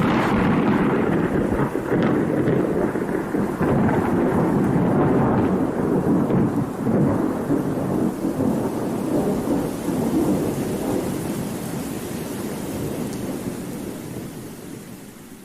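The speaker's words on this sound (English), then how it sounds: "I've never seen a storm just stop like that." A heavy thunderstorm with a continuous roar of rain and deep rumbling thunder, loud and unbroken, tapering off gradually near the end; no voices.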